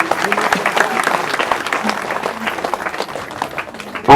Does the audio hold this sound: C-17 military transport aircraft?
no